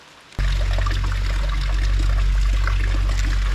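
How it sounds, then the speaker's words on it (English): Rainwater running off a dock at Smith Mountain Lake during heavy rain, a loud, steady pouring trickle that starts abruptly and continues close by without pause. "All the water running off that dock's making me have to pee."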